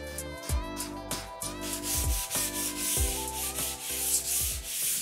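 A door is sanded with 120-grit abrasive in a repeated rhythmic rubbing stroke, about one pass per second, close and loud, with no speech.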